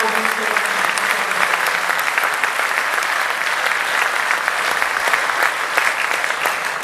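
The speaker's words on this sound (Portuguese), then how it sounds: "eu peço uma salva de palmas." A large crowd at a presidential campaign rally in Lisbon applauds steadily, a dense, sustained wash of clapping that holds at an even loudness throughout.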